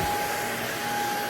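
A CHEBIO cordless stick vacuum with a swivel head runs steadily across a floor at home, a continuous close motor whine with a constant tonal hum and no talking.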